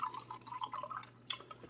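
Chicken broth is poured into a soup pot for white bean and chicken soup, a soft steady trickle and splash of liquid up close, with a steady low hum under it and no talking.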